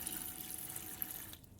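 A small amount of water runs from a tap in a combined vacation house, car and boat, giving a faint steady hiss that thins out near the end, with no talk.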